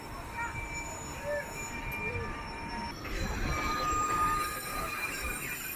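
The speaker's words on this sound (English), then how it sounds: "The train weaves its way through farmlands and small communities" St. Kitts Scenic Railway train rolling along its tracks through farmland, a steady mid-level rumble with faint squeals and rail noise throughout, no talk.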